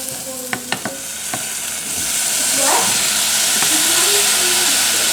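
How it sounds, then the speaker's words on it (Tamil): Tomatoes and onions with turmeric being sautéed in a pan for kumbakonam kadappa: a few sharp utensil clinks, then a loud rising hiss and sizzle as the tomatoes go in, continuing steadily and close. "தக்காளியும் நல்லா வதக்கணும். வெங்காயம் வதக்கின மாதிரி தக்காளியும் வதக்கட்டும்."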